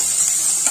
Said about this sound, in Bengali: এখন পেঁয়াজ আর লঙ্কাটাকে ভাজছি।